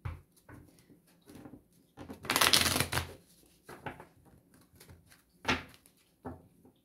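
A deck of tarot-style cards for a card reading is shuffled by hand, quiet and close, in short riffling bursts with one louder flurry in the middle and soft taps between.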